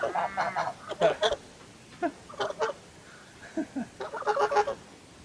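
Domestic geese on a smallholding give a run of loud, close, nasal honks in several bursts, with short pauses between the calls.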